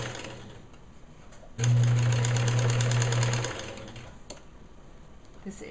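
A sewing machine runs a big zigzag stitch across ribbon on a bereavement gown, a loud steady mechanical whirring burst of about two seconds, then stopping, with quieter handling sounds before and after.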